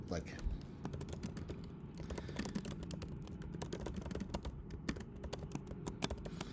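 Typing on a computer keyboard while writing a note in the Emacs editor, a dense, fast run of close key clicks that goes on throughout, with faint talk in the background.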